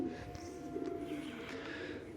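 Soft, low cooing of sport racing pigeons rolls on steadily under a constant background hum, close by and fairly quiet.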